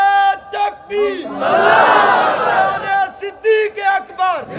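A large crowd roars a religious slogan in unison in answer to a speaker's call at an Islamic gathering in Barhanga, a loud swelling shout that rises and fades, with the speaker's voice before and after it.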